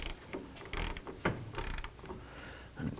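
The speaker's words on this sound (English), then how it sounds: "We're going to go ahead and tighten the lower sway bar end link bolt to 100 foot-pounds." Socket wrench with an 18 mm socket torquing the lower sway bar end link bolt on a 2002–07 Jeep Liberty, a close burst of ratcheting clicks and metallic turning noises in several short pulls.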